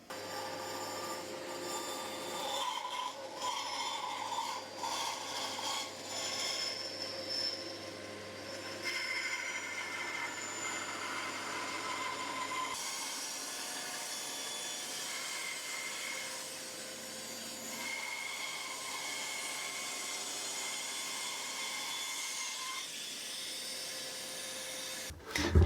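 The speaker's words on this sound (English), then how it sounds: "get the jig put onto my piece of wood and we'll get it cut out on the bandsaw" A bandsaw cuts through a birch wood piece held in a jig, a steady close-up whir with a sustained tonal whine and faint rasping. It runs continuously for the whole stretch, slightly shifting partway through, with no talking.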